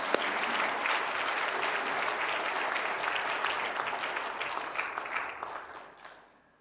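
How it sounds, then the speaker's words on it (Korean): A church congregation claps together at a Sunday service, a dense even applause heard from within the room, holding steady for several seconds before fading out. "박수로 환영할까요?"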